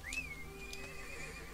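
A horse whinnies in the video game ArcheAge: a single rising then sustained, tonal neigh of about a second and a half over steady game background sound, with no talking.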